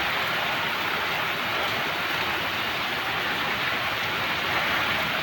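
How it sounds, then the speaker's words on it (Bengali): Heavy rain during a sudden storm, a dense, loud, continuous hiss of downpour with no pauses and no voices. "বৃষ্টি উঠছে এখন, এত ঝড় উঠেছে।"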